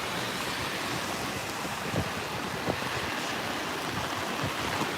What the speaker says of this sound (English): Now we're starting to get some stronger winds.